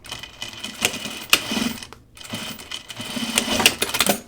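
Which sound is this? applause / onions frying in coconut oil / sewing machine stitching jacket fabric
sewing machine stitching jacket fabric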